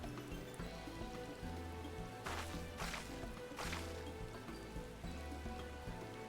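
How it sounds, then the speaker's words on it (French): Steady rain falls in a video game, a continuous hiss with soft patter running throughout, with brief whooshing swells and a low music bed underneath. "Dépêche-toi, il pleut."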